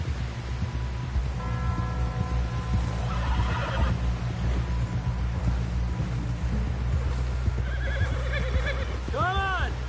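Horses from the Red Dead Redemption 2 video game whinny repeatedly over steady galloping hoofbeats and dense game ambience, with a loud rising neigh near the end and a voice speaking underneath.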